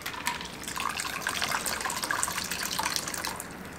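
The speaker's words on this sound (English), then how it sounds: "you just pour it." A shaken apple martini pours from a cocktail shaker into a chilled martini glass, a steady, close liquid stream splashing continuously for several seconds with no voices.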